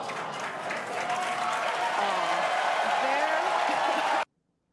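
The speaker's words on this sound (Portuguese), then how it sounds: "As pessoas aplaudiram o foguete explodindo." A crowd claps and cheers in a dense, steady roar at a rocket launch, continuous for about four seconds before cutting off abruptly.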